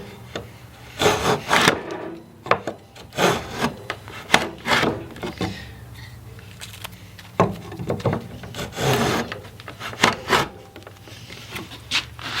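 An antique hand plane shaves a wooden 2x4 that has a knot, making loud, close, rasping strokes in irregular bursts, about a dozen passes with short pauses between them.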